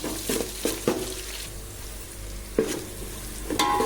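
Ingredients for a fig curry fry in a pan with a steady low sizzle, punctuated by several scraping stirs and clinks, close by, with no one speaking.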